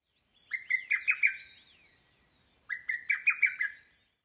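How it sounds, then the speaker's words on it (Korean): Two bursts of rapid, clear lesser cuckoo notes, each a quick run of four or five sharp calls with a short pause between, heard close and alone. "마지막으로 두견이는 쪽쪽쪽쪽쪽쪽 이렇게 웁니다."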